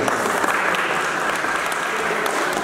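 Welcoming applause at a farewell program for a karate world championship athlete at a sports academy in Nepal, a full, even roar of many hands clapping, sustained and loud without a break.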